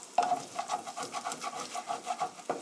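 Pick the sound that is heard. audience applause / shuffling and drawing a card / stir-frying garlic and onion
stir-frying garlic and onion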